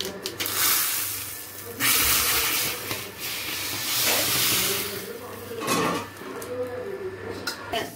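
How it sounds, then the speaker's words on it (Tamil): Mustard seeds tempered in hot oil sizzle and hiss in loud bursts as they are poured into rasam, with a voice talking between the spurts of sizzling. "நல்லா பொரிஞ்சிட்டு நம்ம ஸ்டவ் ஆஃப் பண்ணிட்டு இந்த ரசத்துல கொட்டிடலாம்"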